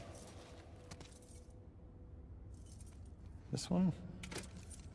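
A bunch of keys jangles in a video game, brief metallic clinks and rattles coming in bursts near the start and again toward the end, with a short spoken line over a low background.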